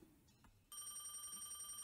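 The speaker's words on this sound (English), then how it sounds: "The phone rang." A telephone bell starts ringing in the point-and-click detective game Crime or Punishment, kicking in abruptly after a brief low rumble and then trilling steadily and brightly to the end.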